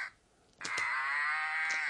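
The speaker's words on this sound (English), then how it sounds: "And the cow, again with the sound chip inside," A squeezed toy cow with a sound chip inside gives a single sustained electronic moo, close and fairly loud, starting after a short quiet pause and holding steadily to the end.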